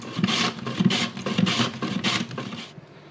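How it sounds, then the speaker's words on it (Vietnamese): Vegetables such as cabbage or banana blossom are shaved thin by hand on a grater, five or so rhythmic rasping strokes, close and fairly loud, ending in a brief pause. "Mình bào mỏng mỏng ra,"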